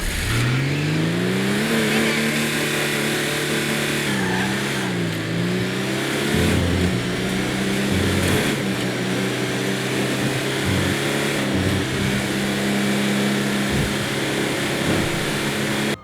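In a video game, an Insurgent Pick Up Custom engine revs continuously and loudly, rising and falling in pitch as it accelerates and shifts, close and steady with no pauses.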